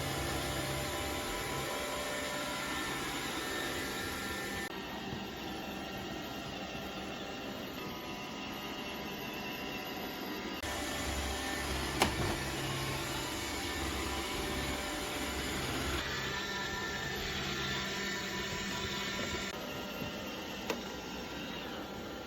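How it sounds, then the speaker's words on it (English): An iRobot Roomba 670 robot vacuum runs and cleans with a steady, faint whirring hum and brushing hiss, broken by a couple of small knocks, continuous for over twenty seconds. "I'm going to show you guys what this robot looks like and what it can do when it's on, when it's cleaning, and while it's running."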